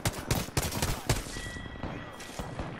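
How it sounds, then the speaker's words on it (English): Gunfire from Apex Legends on PS4, with a rapid burst of loud close shots in the first second and a half, then sparser single cracks and lighter shots over a steady game background. "I hit his teammate like 10 times and none of the bullets like registered"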